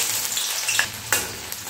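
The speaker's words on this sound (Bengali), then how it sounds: "এই পেঁয়াজ কুচি দিয়ে আমি বেরেস্তা ভেজে নেব।" Chopped onion fries in hot oil for birista, a dense continuous sizzle with a couple of sharp crackles and pops. It sounds close and steady, with no talk.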